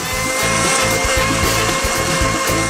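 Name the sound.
grating cheese with a grater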